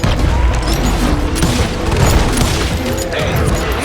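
Heavy gunfire in Call of Juarez: Gunslinger during a shootout around a homestead, a loud sustained volley of shots and booms, with a voice faintly under the din.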